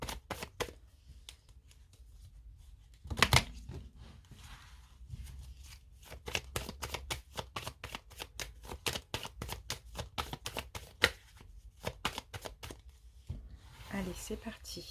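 Tarot cards being shuffled by hand, producing repeated rapid papery riffles and snaps in a steady rhythm with short pauses, close and clear, no talking.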